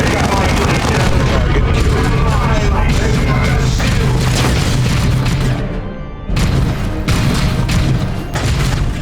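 Grenade blasts and heavy gunfire in a Warhammer 40K Dawn of War 2 Chaos Rising battle, loud booming explosions rolling continuously with a brief lull before the fighting resumes, radio-style voices under the din.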